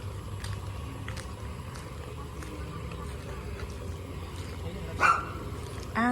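A dog barks once or twice in the distance, brief yips over a steady outdoor hum and faint background noise.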